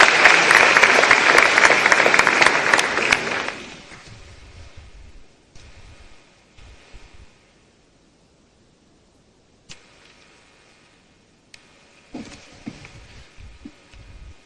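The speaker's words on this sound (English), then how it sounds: "Let's welcome him with a round of applause." An audience at an education event in Ghana applauds to welcome the head boy of PRESEC, a loud dense clapping for about three seconds that quickly fades into a quiet room with scattered faint noises.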